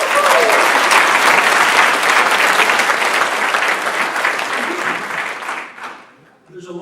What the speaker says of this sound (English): And I think they deserve a great round of applause.